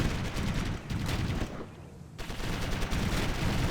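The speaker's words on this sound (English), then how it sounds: "We're under heavy fire." Heavy gunfire rattles in dense, overlapping bursts of shots and volleys, loud and continuous, dipping briefly in the middle before the barrage resumes at full force.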